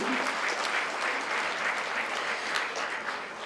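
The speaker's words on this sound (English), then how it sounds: "Please, a round of applause for Julie." Steady, dense applause from a gala audience at a Greek culinary fundraiser, close and continuous, holding at an even level throughout before easing slightly at the end, with no talk over it.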